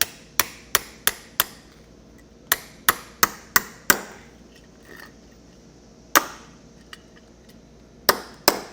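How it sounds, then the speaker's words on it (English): A hammer strikes a metal breakaway switch bracket resting on a wood block, bending it to a right angle: sharp, close metallic blows in quick bursts of several hits, then a few spaced strikes with pauses between. "take a hammer,"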